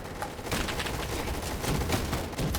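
Dense, continuous rapid gunfire in a Roblox gunfight game, a steady roar of overlapping shots without pause.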